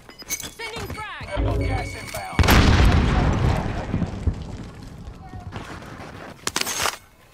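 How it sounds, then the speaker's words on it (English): A frag grenade blasts in Call of Duty Warzone on the Caldera map, a loud boom breaking into scattered gunfire, with players talking over the action. "Sending frag."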